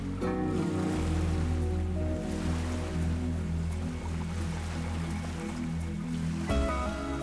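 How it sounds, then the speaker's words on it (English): Ujjayi breathing in a yoga session: a long, steady oceanic rush of breath made with a constricted throat, exhaled through the nose with the mouth closed, close and fairly quiet, heard alone with no talk. "on the exhalation, we use our throat to make that oceanic sound"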